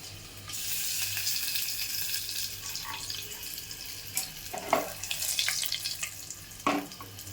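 Crushed garlic and a few curry leaves hitting hot oil, a bright crackling sizzle that rises sharply with spattering bursts as more goes into the pan, close and fairly loud.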